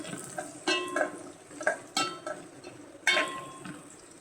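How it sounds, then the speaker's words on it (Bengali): Garlic and onion frying for tempering in a pan, soft scraping and clinking of a utensil against metal at irregular intervals over a faint sizzle, close by. "এখানে রসুন আর পেঁয়াজ দিয়া বাগার দিয়ে নিতেছি"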